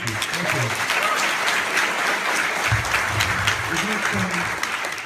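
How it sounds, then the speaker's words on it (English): An audience breaks into sustained applause, a thick wash of many hands clapping at once, while voices talk faintly underneath. "we give them a round of applause for being reasonable and polite"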